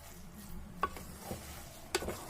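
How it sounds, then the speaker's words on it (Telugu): Maggi noodles are stirred in a pan with a utensil: soft, quiet scraping and low frying under a couple of brief, sharper clinks against the pan. "మనం కింద ఉన్నదంతా బాగా మిక్స్ అయ్యేలాగా కలిపేసుకోవాలి"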